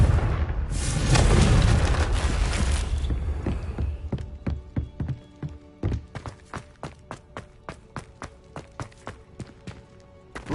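A Confringo blasting spell goes off in Hogwarts Legacy on PS5, a loud booming roar that rumbles for about three seconds before giving way to a rapid run of sharp thuds and taps.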